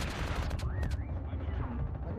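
Gunfire in the Call of Duty Mobile game, a burst of sharp rapid shots near the start followed by a rumbling, noisy firefight with a rising whistle-like tone.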